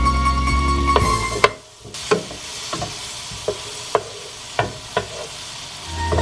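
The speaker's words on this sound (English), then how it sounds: "Into the frying pan, I'm going to put my 4 tablespoons of butter. Let them start melting." Four tablespoons of butter sizzle and crackle steadily as they melt in a hot frying pan, with a few sharp scraping knocks of a utensil against the pan.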